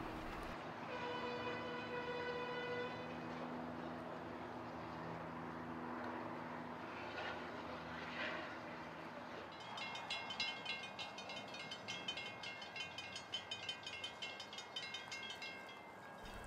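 Filmore & Western Christmas train on a Santa Paula branch line, running westward with the whole train facing east: a steady rumbling roll with a sustained horn-like tonal blast early on, then rhythmic clattering and squealing wheels growing louder.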